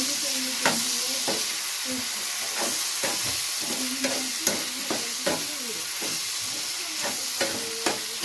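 Spoon scrapes and knocks against a pan at an irregular pace while food sizzles steadily underneath, close and moderately loud.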